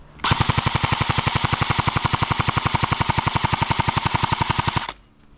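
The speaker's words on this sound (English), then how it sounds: "Let's test the full auto out now." An airsoft rifle rips off one long full-auto burst of rapid, evenly spaced shots for about four and a half seconds, loud and close, then stops abruptly.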